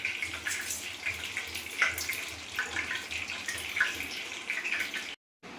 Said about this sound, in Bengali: একটু ভালো করে ধুয়ে নিই সব রকম সবজি